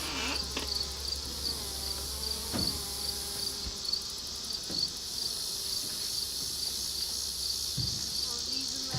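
Honeybees buzz around open beehive boxes set on sawhorses during an October honey harvest at a first-year hive, a steady close drone with insects darting past the microphone and a few soft knocks of handled equipment.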